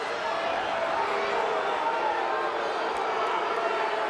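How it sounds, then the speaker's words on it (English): A home crowd at a college wrestling dual meet between Iowa and Michigan boos and roars steadily in a large arena, a dense sustained wall of crowd noise with no breaks. "And the home crowd does not agree with our referee, Matt Sorenchinsky."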